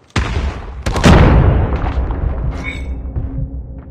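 In COD Mobile gameplay, a grenade goes off with a sharp crack, followed a moment later by a heavier booming blast that rumbles and fades over a few seconds.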